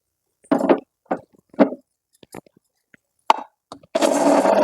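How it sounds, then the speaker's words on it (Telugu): A mixie grinder grinding roasted dal for sesame and peanut laddus, heard first as several short pulsed bursts with gaps, then a louder continuous whirring run at the end. "ఇప్పుడు ఈ పప్పులు పట్టేస్తాం మిక్సీ."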